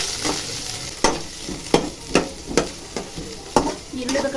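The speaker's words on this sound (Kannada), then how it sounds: "ಈರುಳ್ಳಿ ಸ್ವಲ್ಪ ಬ್ರೌನ್ ಕಲರ್ ಬರಬೇಕಾದ್ರೆ ಚೆನ್ನಾಗಿ ಫ್ರೈ ಮಾಡ್ಕೊಳ್ಳಿ" Onions frying in ghee for a chicken ghee roast, stirred with sharp periodic scrapes roughly every half second over a steady close sizzle.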